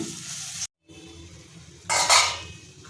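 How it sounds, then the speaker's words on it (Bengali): Spice paste of soaked spices with a little raw onion sautéing on a low flame for a kalonji-flavoured fish curry, with soft sizzling and scraping stirs, a brief silent gap, then a louder burst of frying noise. "এটা কষিয়ে নেবো লো ফ্লেমে।"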